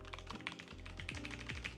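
A computer keyboard clacks in a steady run of quick, light keystrokes with a few deeper thunks mixed in, close up and fairly quiet, with no talking.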